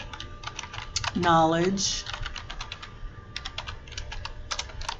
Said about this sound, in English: So we're going to type level 1